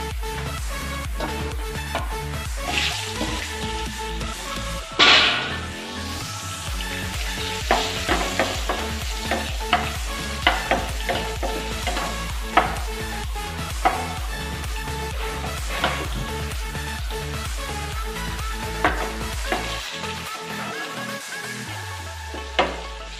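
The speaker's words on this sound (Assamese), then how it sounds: "আমি পটল কিনি ভাজি লম" Pointed gourd (potol) frying in a pan, sizzling continuously while a utensil stirs and scrapes in repeated sharp clicks, with music playing underneath throughout.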